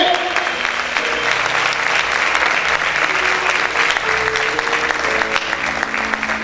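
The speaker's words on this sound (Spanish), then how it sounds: "Grite y aplaude fuerte al Señor." A church congregation shouts and applauds loudly and continuously, with dense clapping and raised voices filling the room throughout.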